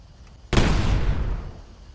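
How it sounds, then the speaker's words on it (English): A fragmentation mine in Fallout 4 goes off with a single loud, booming blast that rumbles and fades over about a second and a half, preceded by a short stretch of quiet game ambience. "the flamethrower will damage the frag mines and he gets blown up"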